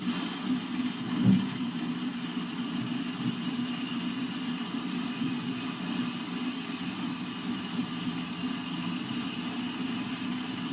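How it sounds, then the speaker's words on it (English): A vintage car's 220 cubic inch engine with a 4.8 compression ratio runs at a steady low idle-like hum, faint and continuous, with one brief bump of louder noise early on. "I hear a little bog in the engine"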